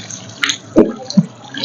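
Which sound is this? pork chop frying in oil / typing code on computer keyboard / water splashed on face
water splashed on face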